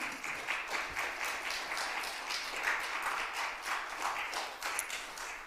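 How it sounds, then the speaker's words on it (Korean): Applause from a church congregation in San Diego welcoming a guest lecturer, a steady, moderately faint wash of many hands clapping alone for several seconds. "우리 따뜻한 박수로 환영하도록 하겠습니다"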